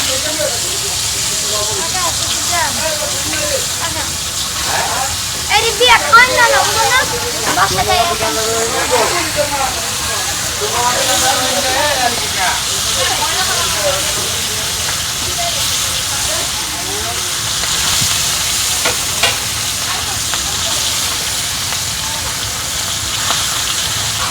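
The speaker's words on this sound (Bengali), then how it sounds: "আমরা যে তেলটা দিয়েছি সে তেল দিয়েই এখন ইলিশ মাছটা ভাজা হবে" Hilsa fish frying in fresh oil at a riverside eatery at Mawa ghat on the Padma, a steady hiss and sizzle running throughout under nearby voices and background chatter.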